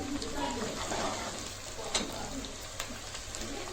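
Green onions fry in a pan with a steady, dense sizzle and the odd stirring scrape, all at close range.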